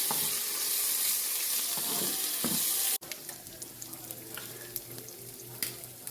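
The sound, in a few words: prawns sautéing in hot oil with turmeric and salt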